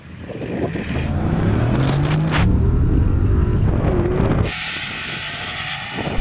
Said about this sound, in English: we're going to drag race to the cone, which is quickest to 50 metres.